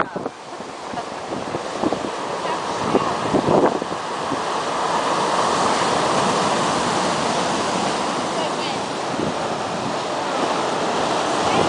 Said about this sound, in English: Those waves, it's crazy.